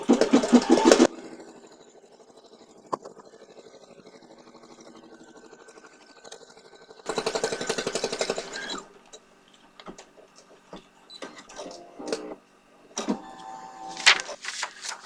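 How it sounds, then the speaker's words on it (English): A home embroidery machine stitches a placement line for quilt batting, with bursts of rapid mechanical whirring and ticking around the start, middle and end, separated by quieter stretches of faint motor hum and clicks. "The first one will place a placement stitch for your batting."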